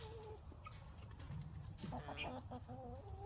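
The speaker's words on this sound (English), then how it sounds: "The guinea hens were just going to town there a minute ago with all their noise." Guinea hens on a hobby farm call outdoors with a mix of clucks and sharp cries, moderately close and scattered over a low background rumble.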